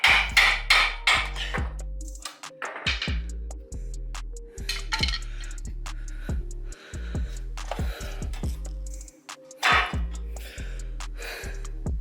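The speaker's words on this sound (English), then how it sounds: "I'm gonna hit it with the hammer right here while I pry it on the other end" A hammer strikes a ball joint on a 2007-2012 Nissan Sentra during control arm replacement, giving a series of sharp metallic clanks with ringing tails, some in quick clusters and some spaced apart, close and loud with no talk.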